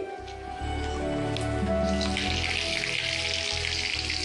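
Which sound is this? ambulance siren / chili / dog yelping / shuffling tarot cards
chili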